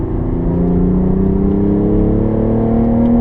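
A car accelerating on the Nürburgring Nordschleife, its engine droning loud and close from inside with pitch steadily rising as revs build, no voices over it.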